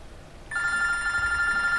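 A telephone bell starts ringing about halfway through, a loud steady electronic trill that continues to the end, with no talk over it.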